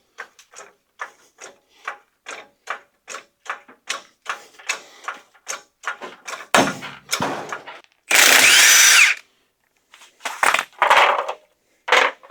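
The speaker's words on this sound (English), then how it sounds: "jack up this side and pull the tire off" A jack ratcheting up a Chevy Silverado 2500HD rear, steady clicks in a regular rhythm, then a loud burst of an impact wrench loosening the wheel nuts and a few clunks as the tire comes off.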